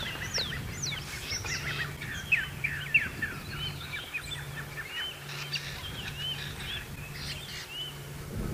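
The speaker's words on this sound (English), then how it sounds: "Nice just sitting listening to the different birds." Assorted wild birds call and chirp steadily in the African bush where lilac-breasted rollers live, a busy layered chorus of tweets and whistles over a low hum, with no voices present.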